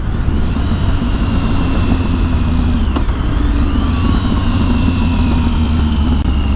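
Motorcycle engine running steadily during a ride, with a constant loud drone and rushing noise, no talking, and a brief click near the middle as the rider tries to shift from first gear toward neutral.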